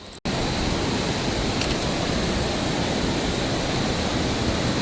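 A mountain river rushing along a trekking trail toward Api Base Camp gives a steady, loud, close roar of flowing water that runs unbroken and alone throughout.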